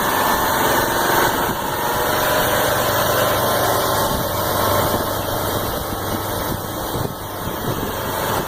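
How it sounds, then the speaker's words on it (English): A heavy recovery truck's engine runs steadily while it tows a heavy tanker through thick mud. The drone is loud, close and continuous, with a constant rumble and mechanical whine that never lets up. "You can hear that engine just purring"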